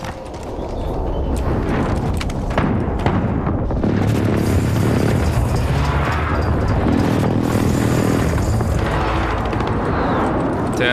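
Heavy explosions from a precision airstrike in Call of Duty: Modern Warfare on PC, a dense, continuous low rumble of blasts and debris running loud throughout, with game noise layered over it.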